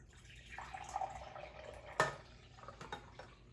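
Coffee poured into a container for an enema: a soft, faint trickling stream with a few drips and one sharper knock partway through, quiet and close.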